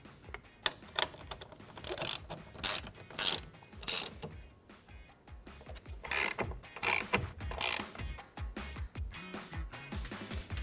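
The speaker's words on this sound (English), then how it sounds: "we can use our T50 to tighten them up" Clicks and ratcheting from a T50 Torx driver snugging down the top bolts on a 2-door Ford Bronco during a Trektop installation, several bursts of short mechanical ratchet sweeps, close and fairly loud, with no talking.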